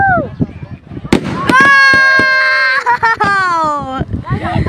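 Spraying fireworks let out sharp bursts and long whistling, wavering tones that rise and fall over a few seconds, close and loud, mixed with excited voices of onlookers.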